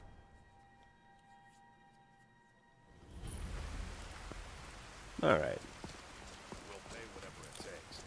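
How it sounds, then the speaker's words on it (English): Steady rain falls in the video game Skyrim, a soft broadband hiss that starts partway through and then continues evenly. A brief louder burst stands out over it, and a voice speaks a single word. "one half lo-fi Skyrim sounds to study to,"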